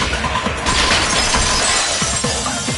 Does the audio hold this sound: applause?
no